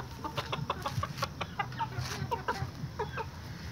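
Chickens and chicks make soft, scattered clucks and peeps, close by and overlapping in an irregular chatter.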